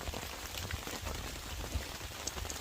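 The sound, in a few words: rain hitting a camping tarp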